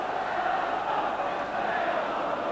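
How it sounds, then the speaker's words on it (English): Well-filled football crowd at Celtic Park, Parkhead, before a Scottish cup tie, a steady roar of massed voices, continuous and fairly loud without distinct chants. "It's up the Parkhead, well filled, the crowd anticipating an exciting cup tie."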